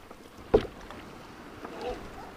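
A canoe paddle dips into the still water of a swamp with a sharp splash, followed by quieter drips and a soft swirl of water as the stroke finishes, close to the microphone in a calm outdoor setting.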